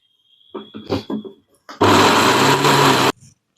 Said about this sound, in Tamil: தேங்காய் வந்து நம்ம அரைச்சி எடுத்தாச்சுங்க குறை குறைப்பாக அரைச்சி எடுத்துக்கணும்